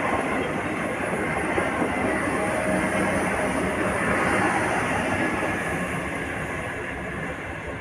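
Railway wagons roll through a hump marshalling yard at Kielce Herbskie with a continuous loud rumbling roar and a faint metallic squeal, steady throughout with no talk.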